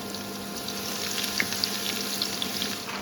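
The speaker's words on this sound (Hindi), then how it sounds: "लहसुन को भी हम अच्छे से फ्राई कर लेंगे मसालों के साथ" Whole spices and garlic frying in a pan for Kashmiri dagith haakh, a steady close sizzle with small crackling pops throughout, no talking.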